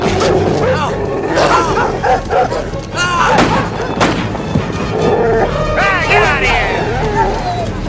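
A pack of German Shepherd dogs barks repeatedly in a Stargate SG-1 episode, the barks and yips loud and close over a busy soundtrack, with people talking among them.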